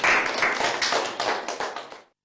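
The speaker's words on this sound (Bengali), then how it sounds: "আমরা খ দলকে সবাই হাততালি দিয়ে ধন্যবাদ জানাই।" A group of children and adults claps in thanks for the winning team at a quiz round during a Bangla Islamic stage program. The claps are dense and fairly loud, with sharp repeated hits for about two seconds before stopping abruptly.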